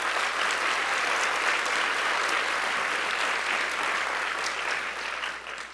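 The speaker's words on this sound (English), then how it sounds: "we owe Jean a big round of applause for that contribution" Sustained, dense applause from a lecture audience at Stanford ahead of the Jean Lyman Lecture, loud and steady throughout before tapering off at the very end.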